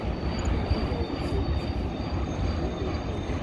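A train rolls through the Spiral Cut as a continuous low rumble and wheel roar, with a faint high squeal running over it at a steady, moderately distant level.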